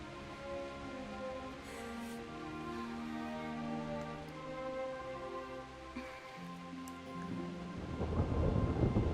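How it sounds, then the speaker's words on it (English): Steady rain and distant rolling thunder from a thunderstorm in the medieval game Kingdom Come: Deliverance, with music-like tonal layers running underneath and the downpour swelling louder near the end. "Not afraid of thunderstorms, are you?"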